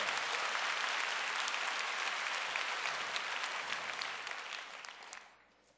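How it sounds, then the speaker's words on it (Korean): A church congregation applauds during a worship service, loud dense clapping held steady for several seconds before fading out at the end. "우리 하나님께 영광의 박수 올려 돌리십시오"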